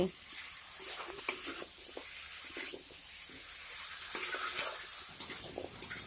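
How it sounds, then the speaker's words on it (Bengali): Drumstick vegetable pieces stirred with spices in a pan for a dried fish curry, giving a soft, steady sizzle with intermittent scraping strokes, fairly quiet and without talk. "মশলাটির সঙ্গে সবজিটিকে ভালোভাবে নেড়ে চেড়ে মিশিয়ে নিতে হবে"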